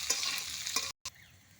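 Mankochu taro frying in a pan with spices, a close steady sizzle with a couple of stirring clinks, cutting out briefly before the hiss resumes.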